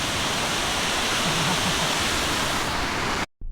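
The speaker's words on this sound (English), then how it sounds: "nice big waterfall here in the town of Akron, New York." Akron Falls, a big waterfall in Akron, New York, roars as a steady, dense rush of falling water heard close and loud, without voices, before cutting off abruptly at the end.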